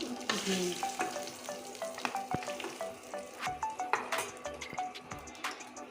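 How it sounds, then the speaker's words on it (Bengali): Already-fried fish heads hit hot oil in a wok, setting off a loud, busy sizzle with scattered clinks and spatters that keeps going steadily. "এখন আমি এই মাছের মাথাগুলো ঢেলে দিচ্ছি"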